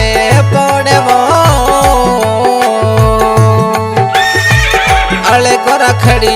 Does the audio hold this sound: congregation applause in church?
no